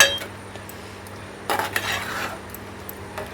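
A metal spoon clinks and scrapes in a pan while eggplant curry with sesame and coriander powder is stirred, a few sharp close knocks over a faint background hum.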